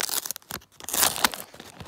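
A Brawl Stars card packet being torn open by hand, a few quick ragged rips and crinkles of foil-like packaging up close, with short bursts and pauses.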